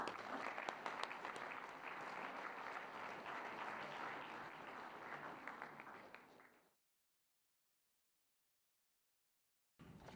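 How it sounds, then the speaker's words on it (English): Banquet audience applauding honorees at an installation dinner, a dense steady wash of clapping for several seconds that tapers off into silence before a brief return at the very end. "let's give them a round of applause"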